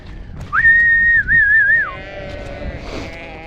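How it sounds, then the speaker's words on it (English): A shepherd's whistle, one long rising-and-wavering tone, rings out close and loud, followed by fainter sheep bleating in reply a moment later over low rustling outdoor noise on a sheep farm. "As soon as I whistle, you usually get an answer."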